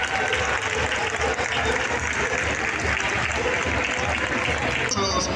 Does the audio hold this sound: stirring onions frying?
no